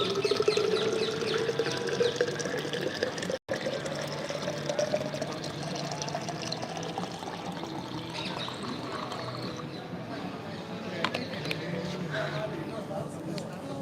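Water pours from a bottle into a glass during an outdoor livestream in Tel Aviv, a rising gurgling fill over the first few seconds, followed by a long stretch of street and crowd background with faint birdsong.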